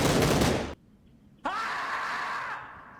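Gunfire in the battle royale video game PUBG: a loud dense burst of shots, a short gap, then another sustained burst with a sharp attack that fades toward the end, close and in the foreground.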